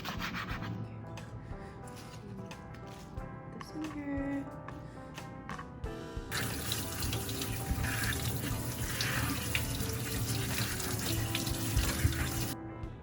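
Tap water runs over chopped vegetables being washed in a kitchen sink, a soft trickle with rubbing and handling sounds at first, then a louder, steady gush of water.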